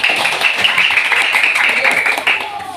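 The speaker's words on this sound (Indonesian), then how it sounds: "Oke, tepuk tangan untuk Zafran" Pupils in a classroom clap together, a short busy burst of children's hands, close and lively, with voices mixed in and the clapping thinning toward the end.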